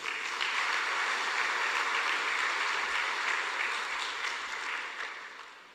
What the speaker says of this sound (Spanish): con otro fuerte aplauso